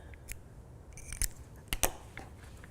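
Scissors snip through crochet yarn while finishing a small amigurumi ghost, giving a few sharp, close cuts with quiet pauses between them and no talking.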